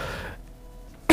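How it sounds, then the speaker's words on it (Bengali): A single short throat-clearing cough from a radio show host, a quiet rough burst at the very end after near-silence. "দুঃখিত, অনেকগুলো কাশি আজকে দিতে হবে"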